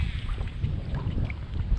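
Strong wind buffets the microphone in a marsh during kayak fishing, a steady low rumble and gusty roar filling the whole stretch with no voices.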